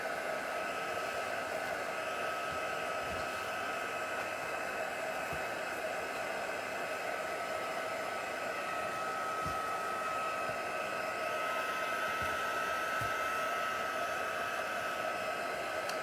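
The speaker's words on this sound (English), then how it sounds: "I'm just going to quickly heat set them so I don't smudge them with my finger" A heat tool blows steadily and loudly for the whole stretch, heat-setting alcohol ink stamped on Yupo paper, a constant whooshing hiss with faint bumps and no talking.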